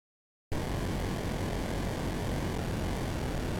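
An airplane engine in an Atari 2600 video game gives off a steady, loud electronic drone that starts abruptly and holds an unbroken, even hiss-like roar to the end.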